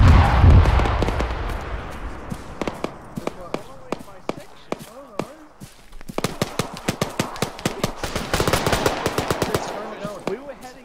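Rapid gunfire and heavy artillery blasts in the military video game Arma 3, with sharp repeated cracks in bursts and dense volleys near the end, while voices talk over the battle.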